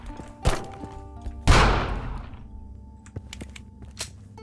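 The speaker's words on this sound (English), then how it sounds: "Definitely sounds like a stronger gun." Revolver-like gunshots in The Final Station video game: a sharp crack followed by a heavier booming shot with a decaying tail, then scattered small clicks and thumps, close and punchy with no talking.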